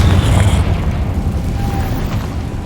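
A Confringo spell explosion in the Hogwarts Legacy video game, a loud booming burst at the start that fades into a sustained low rumble and crackle.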